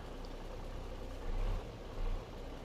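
A truck engine in the driving game American Truck Simulator idles as a steady low rumble, swelling twice briefly as the revs rise, with no voices over it.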